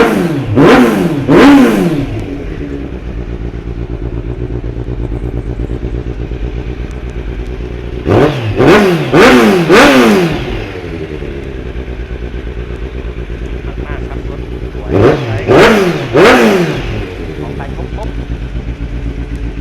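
A used big bike motorcycle idles with a steady low rumble, broken three times by quick, sharp throttle revs that rise and fall. It sounds close and loud.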